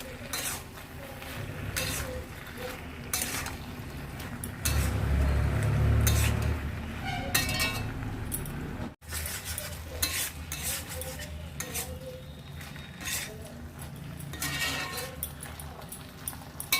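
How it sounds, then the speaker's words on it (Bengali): Fried cauliflower pakoras being stirred into thick Manchurian gravy in a pan, with rhythmic spatula scrapes and clinks over a soft sizzle and a brief thudding patch partway through. "এবার ফুলকপির পকোড়াগুলো দিয়ে ভালো করে গ্রেভির সাথে মিশিয়ে নেব"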